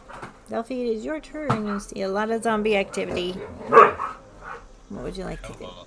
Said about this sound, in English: Sounds like this dog's barking